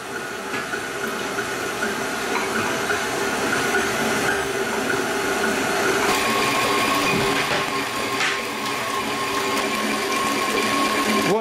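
Electric mixer blending crêpe batter with browned butter mixed in: a continuous, fairly loud motorised whirring and rattling churn with a busy texture, steady throughout with small surges.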